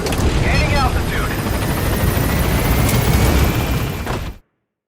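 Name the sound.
helicopter gaining altitude in Metal Gear Solid V video game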